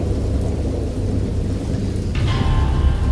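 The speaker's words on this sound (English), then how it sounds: "I know that I heard peals of thunder and other tones which nature utters" A thunderstorm with heavy rain and deep rolling peals of thunder, a loud continuous low rumble with a sharper crack near the end, no voices.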